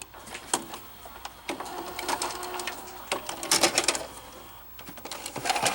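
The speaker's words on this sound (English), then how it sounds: "My GoldStar VCR does the same thing. Eject." GoldStar GVR-DD1 VHS/8mm combo VCR ejecting a tape, a run of faint mechanical clicks, clatters and whirring motor sounds, heard close and alone.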